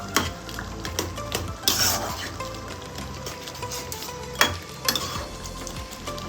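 Poppy seeds being stirred into a simmering Bengali prawn malai curry: a soft, continuous sizzle with a spoon scraping and clinking against the pan in uneven bursts, close and moderately quiet, with no voices.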